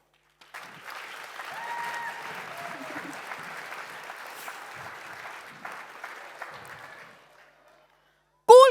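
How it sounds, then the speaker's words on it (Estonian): An audience applauds at a school dance performance, steady clapping from a hall crowd lasting several seconds before fading out, with a few faint voices mixed in. "Suur aplaus ja tänu meie lapsevanematele."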